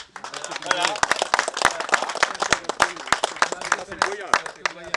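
Scattered clapping from a small crowd at a speech honouring guests, uneven individual claps close by with voices talking over and between them.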